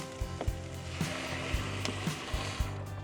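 Pepper and spices dry fry in a Sea to Summit X Set 32 foldable pan inside a campervan, giving a soft steady sizzle broken by regular light knocks and scrapes.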